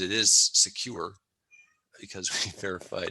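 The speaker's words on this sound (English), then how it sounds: "the cat wants out. Sorry, you can hear that in the background" A cat meows loudly in the background, wanting to be let out, its drawn-out cries overlapping someone speaking, with a short lull between phrases.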